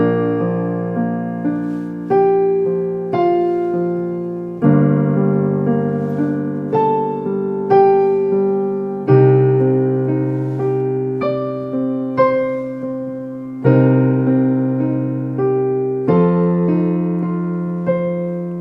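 A piano plays a passage from a song: struck chords and melody notes ring out and fade in a steady, clear sequence, close and solo without voices.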